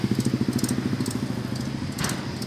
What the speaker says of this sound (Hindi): आ गया नया 265 DI महिंद्रा